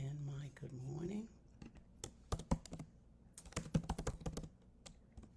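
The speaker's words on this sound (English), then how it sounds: "Just typed in my good morning on Facebook." Someone types a good morning message on a computer keyboard, giving irregular bursts of close, crisp key clicks after a stretch of soft speech at the start.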